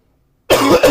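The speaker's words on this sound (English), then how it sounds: "even if I'm coughing as violently as you just heard me do" After a moment of silence, a person lets out a sudden, harsh burst of violent coughing, two rough hacks close together and loud up front.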